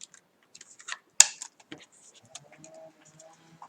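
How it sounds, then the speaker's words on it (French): Scissors snipping paper around an envelope for a handmade album, a few quiet close cuts with one sharp louder snip, followed by soft rustling. "Et je coupe là où je le décide."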